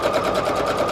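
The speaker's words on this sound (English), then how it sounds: "I usually just sew right off the edge." A sewing machine stitches through printed paper ephemera with a steady, loud, rapid mechanical whirring and needle chatter in one brief close burst.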